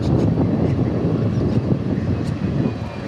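Embraer E-175 jet arriving at DFW Airport, a steady broad roar of engine noise with wind buffeting, loud and continuous throughout with no voices.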